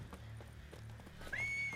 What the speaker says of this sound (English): Horses are running.